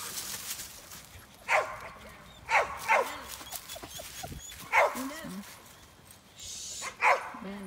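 A young sheepdog barks in short separate bursts while working sheep on her first outing, with someone talking close by between and over the barks.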